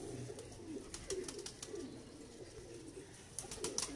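Jungle-dove type pigeons from a pet breeder's loft coo steadily in low, throaty repeated phrases, with scattered wing flutters and faint chirps nearby, no voices over them.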